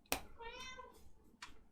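A cat meows in a drawn-out, rising and falling cry, close and fairly loud, with a sharp noise just before it and a brief burst of noise afterward.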